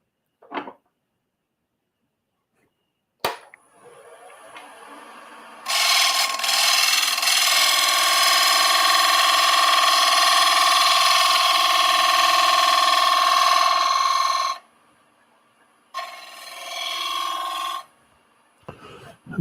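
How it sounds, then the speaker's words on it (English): A small gouge cuts face grain on a wood lathe, producing a steady, loud scraping whine that runs unbroken for about nine seconds, then returns for a shorter pass after a brief pause. "So now let's just do the little gouge."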